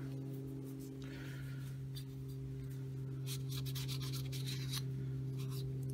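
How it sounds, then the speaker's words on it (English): A cloth wipes a Villiers-marked carburettor float from an Allen Scythe mower, producing faint, intermittent rubbing strokes that cluster toward the end over a steady low background hum, with no talking. "Give this float a wipe."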